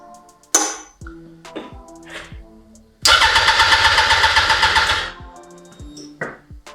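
A Yamaha R1 motorbike engine cranks and fires into a loud, rough run for about two seconds before cutting out, with clicks and workshop handling noises around it.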